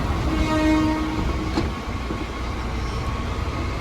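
A Rangkas line commuter train in Indonesia rumbles close by with a steady rail roar and a brief horn tone near the start, no talking.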